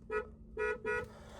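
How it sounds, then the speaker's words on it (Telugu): A used car with about 77,000 kilometres on it sounds its horn in three short, bright beeps, close and clear: one, a brief pause, then two more in quick succession. "హారన్ దీందే."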